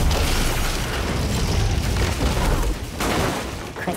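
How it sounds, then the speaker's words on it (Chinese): A magic key being forged bursts apart when blood is added, a loud, dense explosive roar that rumbles continuously for a few seconds before easing slightly. "血一加进去直接爆炸。"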